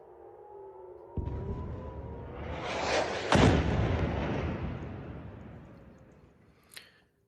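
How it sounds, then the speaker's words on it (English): A barrage of at least ten rockets fired in the Red Sea conflict, heard from a distance as a rising, sustained roar that swells with a sharp crack midway and then slowly trails off. "There was a barrage of at least 10 rockets fired."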